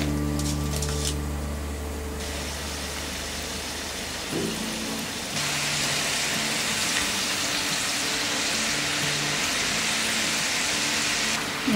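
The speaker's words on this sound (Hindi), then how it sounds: "इस बार हम हाई फ्लेम में इसे 4 से 5 मिनट तक या इसे गोल्डन ब्राउन होने तक हम इसे फ्राई करेंगे" French fries deep-fry in hot oil over a high flame, giving a steady, loud sizzling hiss that swells abruptly partway through and then continues unbroken, with no talking.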